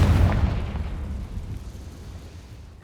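A Confringo fire spell bursts in Hogwarts Legacy near a cave entrance, a loud deep boom at the start that rumbles and slowly decays over a few seconds.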